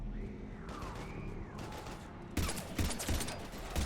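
Gunfire in Mass Effect Legendary Edition played on Xbox: a dense, continuous fusillade of rapid shots under whooshing game effects, growing louder and sharper midway through, with no talk.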